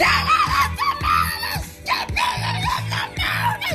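Someone screams the lyrics to a song over a thumping beat, the strained, shouted vocal running nonstop above the music.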